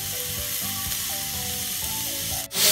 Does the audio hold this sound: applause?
no